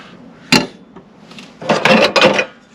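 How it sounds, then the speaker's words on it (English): A metal frying pan with a lid is handled in a Mercedes Vario camper van, giving one sharp clank followed by a cluster of louder clattering knocks and rattles, close and without talk. "Frying pan with a lid."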